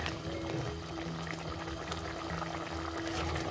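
Mutton simmering in a pot of water with tomato, onion, garlic-ginger paste and green chili, a steady close bubbling and boiling wash that continues evenly throughout with no voices.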